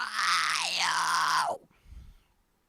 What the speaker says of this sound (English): Screaming without the diaphragm sounds kind of like yeah, cry.